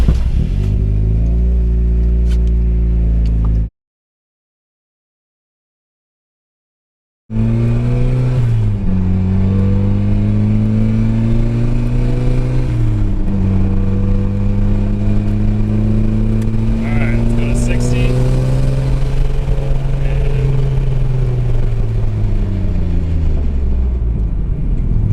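A car with Wilwood 6-piston big brakes drives while its brakes are bedded in, engine tones rising and falling as it repeatedly accelerates and slows, with a brief silent gap early on.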